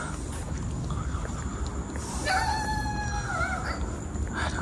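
A dog howls in a drawn-out, wavering cry near a shopping mall, rising partway through and holding over steady outdoor background noise, with no talking.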